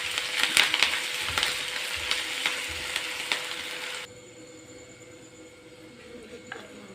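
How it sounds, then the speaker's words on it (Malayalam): Ginger, curry leaves and five or six chopped green chillies fry together in a pan, a close bright sizzle with scraping stirs that cuts off abruptly after about four seconds, leaving near quiet. "ഒന്നിച്ചൊന്ന് വറുത്തെടുക്കണം"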